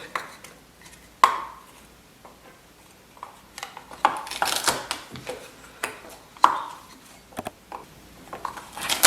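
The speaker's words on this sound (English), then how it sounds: "You can mince it, you can use a knife to cut." A kitchen knife mincing garlic on a cutting board for seafood pasta: a handful of sharp, irregular knocks and clicks spaced a few seconds apart, close and fairly quiet, with soft kitchen handling between them.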